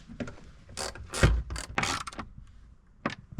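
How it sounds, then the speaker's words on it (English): A ratchet fitted with a 13mm socket tightens bolts on a removable false floor in an Isuzu MU-X, giving short bursts of clicking in quick irregular strokes with pauses between, close and clear. "Now we can grab a ratchet or something to tighten those down. So I'm just going to grab a 13mm socket."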